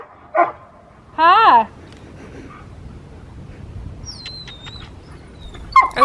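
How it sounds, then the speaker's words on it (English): Dogs on a farm bark in a few sharp, loud bursts near the start, then quieter yips and bird chirps follow while a person speaks briefly outdoors. "I just wanted to apologize for all the dog barking in the background"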